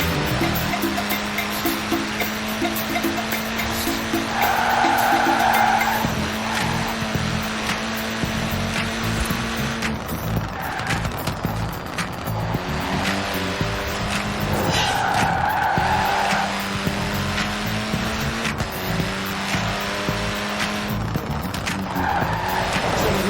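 A Mini Cooper S in Forza Horizon 4 drives hard with a steady engine drone and repeated tire squeals and skids, close and loud throughout, with gear changes and revving swells.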